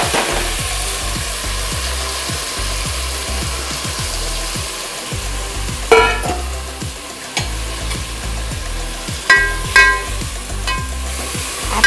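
Tomatoes sizzle loudly in hot oil with cumin on a low gas flame, crackling and popping continuously while a spoon scrapes and clatters against the pan at several points.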